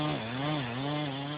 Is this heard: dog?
no